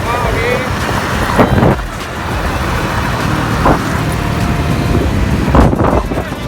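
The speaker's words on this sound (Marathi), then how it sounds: "चांगलं ट्रॅफिक आहे." Steady road traffic rumbles nearby with wind buffeting the microphone, a few vehicles swelling past now and then.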